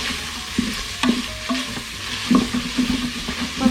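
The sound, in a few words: stirring food in the Instant Pot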